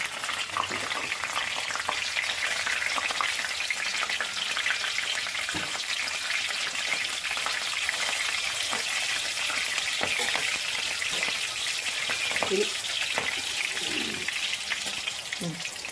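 Hot green chillies fry in a pan of oil for a Palakkad-style chicken and ash gourd curry, giving off a loud, steady, crackling sizzle with occasional stirring clatter.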